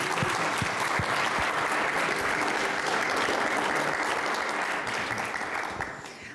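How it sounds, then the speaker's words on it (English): An audience at a community meeting gives a full, continuous round of applause that holds steady and fades slightly at the end. "he deserves another round of applause"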